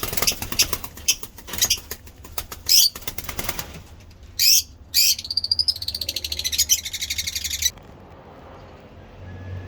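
Rapid bursts of wing flapping and fluttering close by from albino lovebirds in a cage aviary, mixed with sharp bird chirps and squeaks, then a sudden drop to quiet near the end.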